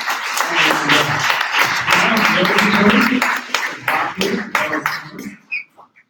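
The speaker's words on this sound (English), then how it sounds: "So you can give a round of applause now for Sumia Basu with Blockstop." A conference audience applauds loudly a speaker's introduction, with dense clapping and some voices mixed in, then the clapping thins out into a few scattered claps and stops.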